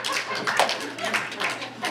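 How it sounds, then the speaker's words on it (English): Scattered audience clapping at a stand-up comedy show, a handful of people clapping irregularly in a room, moderately loud and brief, with voices murmuring faintly underneath. "Can you clap, Catholics?"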